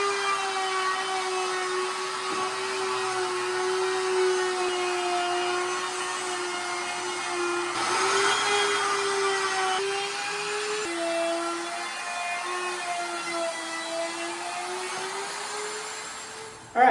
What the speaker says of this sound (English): we're just using our router with the trim bit, and we're going to go around and trim off our excess plywood